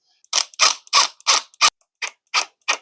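P2 screws are driven into pre-drilled holes in the wooden frame of an Aivituvin AIR19 rabbit hutch, making eight close, crisp ratcheting bursts in an even rhythm with short silent gaps between them.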